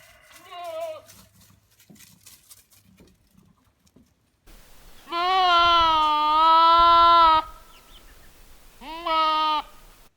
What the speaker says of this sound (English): I kept hearing this goat, kept hearing this goat